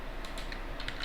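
Several quick, light keystrokes tap on a computer keyboard, faint and close in a quiet room, spaced irregularly over about a second.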